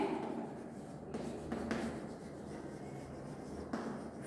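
A teacher writing a number on the board during a grade 4 maths lesson, giving soft, quiet scratching strokes with a few sharper taps, alone in a calm room.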